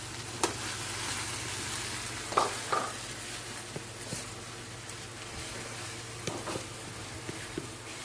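Lemongrass stalks and crushed lime leaves being stirred in a cooking pan, likely oil, for a woku fish dish: a steady sizzle with scattered scraping clicks from the spoon, close and moderate, no talk.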